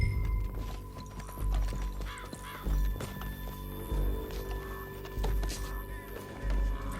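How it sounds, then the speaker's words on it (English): Horse hooves clip-clopping in Red Dead Redemption 2 as a rider sets off after others through a canyon, rhythmic thuds under faint background sounds with an occasional snort. "Back on your horse. Let's get after them."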